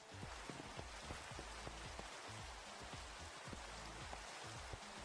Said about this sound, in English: Night and it's raining.